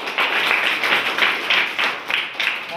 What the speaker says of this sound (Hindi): चलिए क्या बात है, जोरदार ताली हो जाए।